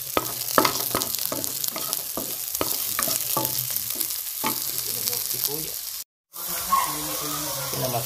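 Spicy squid adobo is stirred and sautéed in a pan with onion, garlic, chili and ginger, giving a close, busy sizzle broken by repeated scraping strokes and a brief gap near the end.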